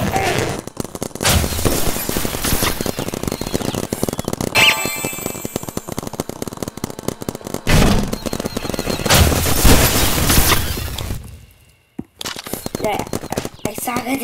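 Paintball guns fire in the video game Big Paintball, dense rapid shooting bursts nearly continuous and fairly loud, with a voice speaking over the action and a brief silent gap near the end.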